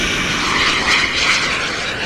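A radio-controlled model airplane makes a low photo pass at a small airfield in Central Florida, its engine a loud, steady buzz that swells slightly as it passes close by.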